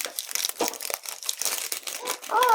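Crinkly wrapping on a surprise wafer snack crumples and tears as the package is opened by hand, with close, rapid rustling bursts and a brief voice near the end.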